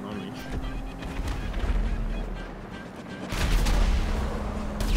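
Grand Theft Auto V gunfire booms in heavy, rumbling bursts, with a low steady drone underneath and a voice talking over it.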